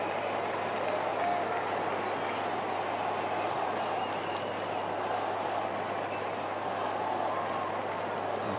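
A large stadium crowd at an AFL match between Collingwood and GWS Giants makes a steady, subdued murmur of distant noise throughout, with no standout cheers.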